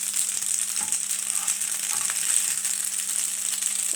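Plain white pasta sizzling and frying in a hot pan, a steady bright hiss with soft scraping stirs underneath, close and continuous.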